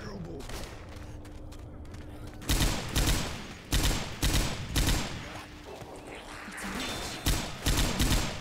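Gunfire from Left 4 Dead as players shoot zombies: bursts of rapid shots come in repeated loud clusters, with quieter game ambience and sound effects between them and speech under the action.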